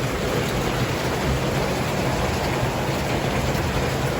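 Constant heavy rain from Typhoon Kristine roaring evenly with a low rumbling undertone, no voices heard.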